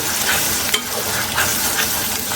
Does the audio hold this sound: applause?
no